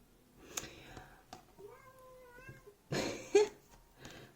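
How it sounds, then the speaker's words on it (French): A cat meows indoors in a quiet room, with a few short calls and one longer drawn-out meow, fairly soft and close, broken up by small bumps and rustles. "Mon chat."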